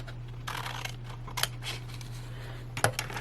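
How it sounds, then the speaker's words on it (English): Scissors snip through a folded junk mail envelope in a few short, close cuts, with quieter rustling of paper between them and no talking. "I'm going to need to cut this flat so that you can open it from either side"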